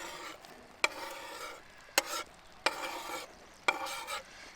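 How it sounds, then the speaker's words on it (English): Onions tumble into a pot of browned bison for a stew, giving a soft steady sizzle broken by four sharp stirring scrapes and knocks at regular intervals, close and moderately quiet. "Now we're gonna add in the onions."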